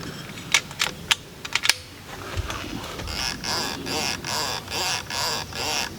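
Turret adjustment clicks on a Discovery Optics LHD 8-32x56 riflescope: a few sharp separate clicks in the first two seconds, then a rapid steady run of crisp clicks, close and fairly loud, with no talking.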